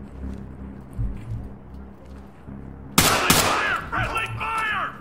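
Gunfire erupts in the tactical shooter Ready or Not: a sharp loud burst of shots at the three-second mark, followed by echoing reports and ringing tails over a low rumbling background, with a shouted voice among the shots.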